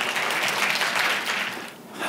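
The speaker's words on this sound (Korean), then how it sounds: "박수를 맞아주십시오" An audience at a tech conference in Seoul claps steadily to welcome a speaker onto the stage. The applause is full at first and then thins out near the end.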